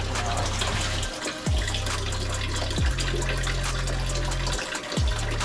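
Coolant drains out of a car engine, a continuous splashing gush and trickle that runs unbroken at close range, with no talking.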